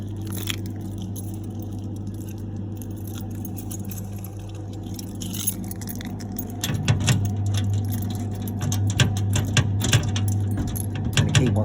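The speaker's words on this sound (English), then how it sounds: "I'm going to find my keys." Keys jangle and click in bursts while a control box at a timber yard is unlocked, growing busier in the second half over a steady low electrical hum.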